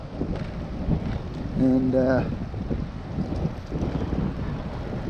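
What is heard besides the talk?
strong wind blowing into the microphone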